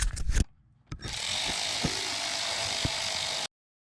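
A ratchet works 6mm Allen bolts loose on the front axle flange of a Porsche 996 Carrera 4. A few sharp knocks come first, then a steady close mechanical whirring runs for about two and a half seconds and stops abruptly.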